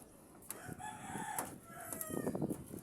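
Roosters crowing and chickens clucking among fighting cocks being exercised before feeding, with a clear crow rising early and busy clucking and scratching noises building near the end.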